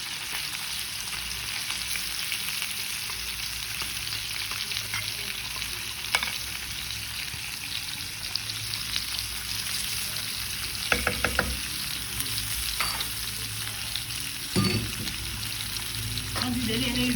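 Chicken pieces sizzle steadily as they brown in a pan for a vegetable chicken tagine, a continuous close frying hiss broken by a few sharp clinks and scrapes of stirring.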